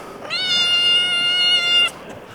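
A kitten meows once in a long, drawn-out, high-pitched cry lasting over a second and a half, close and fairly loud, on a street in Sarajevo, with no talking.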